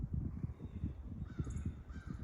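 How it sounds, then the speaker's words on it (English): A crow caws repeatedly in a thawing winter woodland, the harsh calls fairly near and rhythmic over soft rustling and crunching footsteps, with no talking. "That's a crow."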